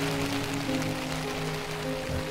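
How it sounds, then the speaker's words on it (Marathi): Heavy rain pours onto a camping tent at Harishchandragad, a dense, steady patter close by that continues without a break, with no talking. "अर्ध्या तासापासून पाऊस पडतोय खूप सारा."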